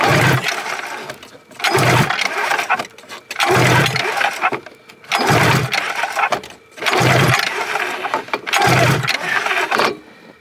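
Snowmobile engine cranking over repeatedly during a cylinder compression test, loud close bursts of rhythmic turning in about six pulls separated by short pauses, no speech.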